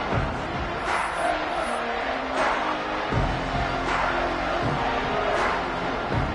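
A stadium crowd at a college football video game, a steady roaring murmur of many voices with occasional swells, heard close and continuous throughout.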